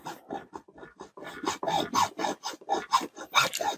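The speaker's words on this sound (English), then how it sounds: "I think a hacksaw will do the job" A hacksaw cuts through a thick rubber snow plow flap in quick, rasping back-and-forth strokes, close and fairly loud, with an uneven rhythm of about three to four strokes per second.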